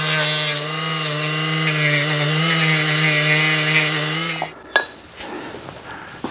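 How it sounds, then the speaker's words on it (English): Screw heads on a Toolmaster mill feed gearbox being cleaned with a power tool, giving a loud steady whirring grind that cuts off partway through, followed by a few quiet handling clunks. "just cleaning the heads of these screws before I put them back"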